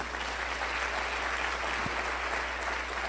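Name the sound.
congregation applause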